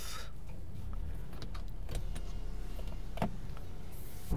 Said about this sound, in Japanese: かなりエンジンの音も静かだなっていう感じしますね